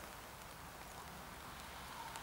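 Steady rain falls outdoors at a camping spot near Auschwitz-Birkenau, a faint, even hiss of drops with no talking.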